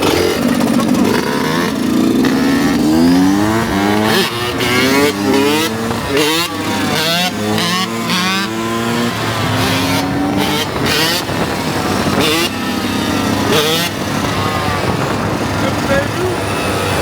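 Motorcycle engine held in a wheelie on a dirt track, loud and close with rising and falling revs, sharp throttle blips and a voice speaking over it.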